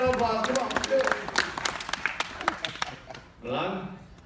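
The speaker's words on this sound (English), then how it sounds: "Nice round of applause." A few people give a brief round of clapping during a lively game, with scattered sharp claps mixed with laughter and voices, followed by a short burst of speech.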